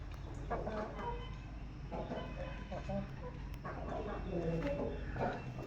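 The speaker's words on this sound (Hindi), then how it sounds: "इधर मुर्गियाँ हैं 2।" Chickens and roosters of the Aseel breed clucking in a farm setup, soft scattered clucks over steady background noise with someone talking over them.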